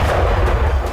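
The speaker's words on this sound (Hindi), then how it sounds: "ये ड्रोन यहां रखे कंटेनर से टकराया, जिसके बाद एक छोटा धमाका देखा गया।" A small explosion as a drone strikes a container at a port, heard as a dense, rumbling low boom that fills the whole second at steady loudness, with no speech.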